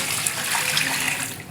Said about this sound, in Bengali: আবার জল দেওয়া হচ্ছে